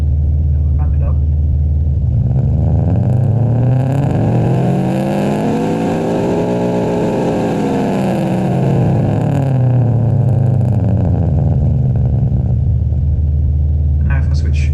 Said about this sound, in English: So this is the Subaru Impreza. This has got really nice exhaust